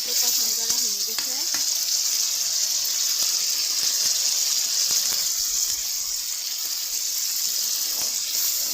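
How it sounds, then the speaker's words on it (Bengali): Spice paste (masala) sautéing in a pan for a taro and red lentil dish, a steady bright sizzle and hiss throughout with faint scraping stirs, close up, a voice briefly heard near the start. "তো এখন মশলাটাকে ভালো করে কষান করে নিব"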